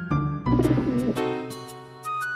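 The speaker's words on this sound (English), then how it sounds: "A pigeon saw the first pea and walked over to it." A pigeon coos in an animated fairytale, a short run of soft calls set against steady background music with no talking.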